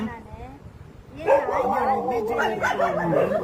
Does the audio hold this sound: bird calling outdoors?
no